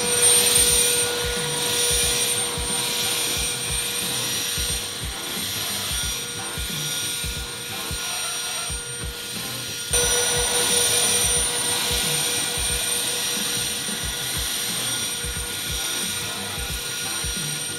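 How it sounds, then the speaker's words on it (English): A Worx Nitro 40V Leafjet cordless leaf blower running at a low speed setting with its nozzle fully retracted, giving a loud, steady whirring roar with rapid pulsing flutter that holds throughout and briefly surges. "So I just completed testing with this Worx Nitro 40 volt Leafjet"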